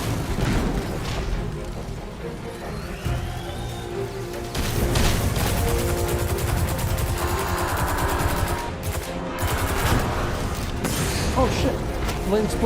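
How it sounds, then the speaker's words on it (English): A video game explosion booms amid continuous gunfire and crashing combat noise, loud and dense throughout a space ship battle, with someone talking over it. "Late explosion on that thing."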